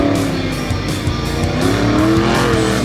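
A monster truck spins out during a racing event at Lake Erie Speedway, its engine roaring loud and close with rising and falling pitch while tires squeal and skid continuously, crowd and arena noise underneath.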